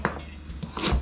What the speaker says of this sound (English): we're just gonna do a rough chop on these as well